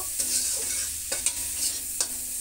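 Spice masala being stir-fried in a pan, a steady soft sizzle broken by a few sharp spoon scrapes against the metal, close and with no talk.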